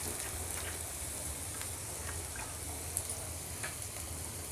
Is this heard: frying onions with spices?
yes